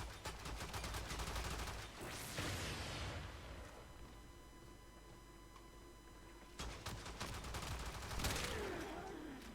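Vectis Prime sniper rifle firing in a video game, sharp loud gunshots with long ringing, rumbling tails under dense, continuous game noise.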